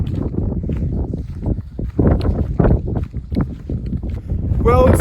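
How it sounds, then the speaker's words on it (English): Strong gusty wind buffets the microphone on an open hilltop hiking trail, a loud continuous rumble with a person speaking through it. "it's too windy to launch my drone up here"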